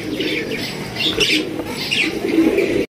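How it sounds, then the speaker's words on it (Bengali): Two pairs of fancy pigeons, a grizzle beauty pair and a red king pair, at a loft in Bangladesh. Soft overlapping coos and bird calls run steadily for about three seconds, close by over a busy background. "দর্শক, এখানে 2 জোড়া কবুতর আছে।"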